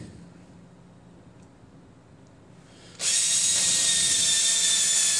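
An electric drill fitted with a countersink bit starts abruptly after a quiet stretch and runs at a steady high whine for the last couple of seconds.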